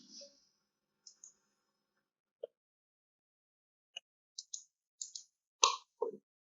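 Mouse clicks while working in 3ds Max, about nine sharp isolated clicks spaced irregularly over quiet silence, close and crisp, a few coming in quick pairs toward the end.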